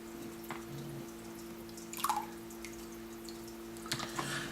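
Water drips from hydroponic growing media set out to drain, a few faint, scattered drips and small trickles over a quiet background with a steady low hum.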